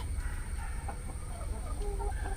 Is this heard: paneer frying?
no